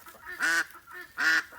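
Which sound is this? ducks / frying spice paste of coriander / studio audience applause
ducks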